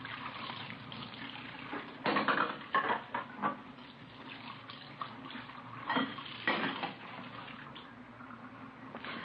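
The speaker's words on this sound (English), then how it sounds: "We found her in the kitchen washing dishes." Dishes are washed and rinsed in a kitchen sink in an old-time radio crime drama: running tap water with clustered clinks of plates and pots, moderately close, with no talk.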